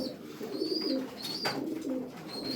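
Soft, low cooing of white Ankara pigeons repeats in rolling phrases, with a faint high whistle-like tone now and then in the background.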